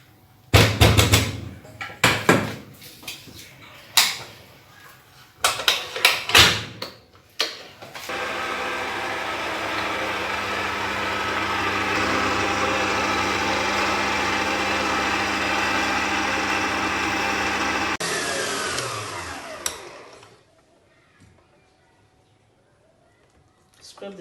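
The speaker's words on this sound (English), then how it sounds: "So I'm going to cream the 250 grams of our salted butter." An electric mixer creams 250 grams of salted butter, whirring in a steady sustained drone for about ten seconds after a run of knocks and clatters, then cutting off into near silence.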